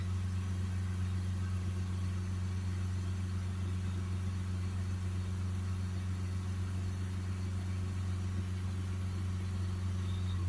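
Mazda CX-3 1.5 SkyActiv petrol engine held steady at about 3000 rpm during a DPF regeneration, a loud, continuous even drone with no change in pitch, alone without talk.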